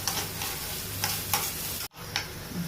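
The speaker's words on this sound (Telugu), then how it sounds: "తొందరగా ఉల్లిపాయలు వేగిపోతాయి, అందుకని కొంచెం ఉప్పు వేస్తున్నాం" Onions with a little salt frying in a pan, a close hissing sizzle broken by a few sharp stirring scrapes, with a momentary gap before the sizzling resumes.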